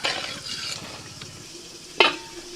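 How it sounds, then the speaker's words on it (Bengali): Water poured into a pan of potatoes frying in spices, a sudden splashing sizzle burst near the end after quieter steady frying and stirring sounds. "মশলার সাথে আলুটাকে ভালো করে কষিয়ে নিয়ে আমি জল দিয়ে দিচ্ছি"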